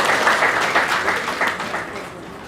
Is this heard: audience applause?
yes